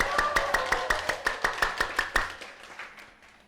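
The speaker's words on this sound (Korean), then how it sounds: "힘찬 박수로 시작해 보겠습니다." A lecture audience claps in unison with a steady, rhythmic beat of sharp, evenly spaced claps that loosen and fade into scattered, softer clapping.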